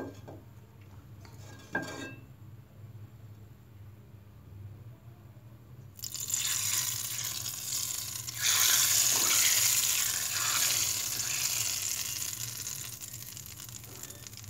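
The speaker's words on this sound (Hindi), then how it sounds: "अब हम इसमें भगार डालते हैं जो हमने भगार बनाया है" Hot oil tempered with cumin is poured over mixed dal with beef: a few quiet clinks first, then a loud, sustained hissing sizzle that swells and lingers to the end.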